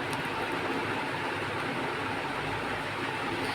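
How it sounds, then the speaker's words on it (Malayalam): A steady, even drone of a Kochi Water Metro boat fills the space, a constant low engine rumble with broad hiss and no distinct events or voices. "ഇതാണ് വാട്ടർ മെട്രോ."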